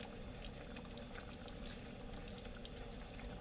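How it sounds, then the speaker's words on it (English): Gravy with meat bubbling and thickening in a pan on the stove, giving a steady, faint, close simmering fizz with small pops scattered throughout and no talking. "You see how it's bubbling and thickening?"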